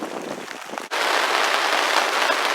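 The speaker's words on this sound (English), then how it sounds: "the rain is pretty much chucking it down now" Heavy rain pouring down outdoors over a garden with a netted tunnel and polytunnel, a dense steady hiss that briefly dips near the start, then drums on loudly and continuously with no voices.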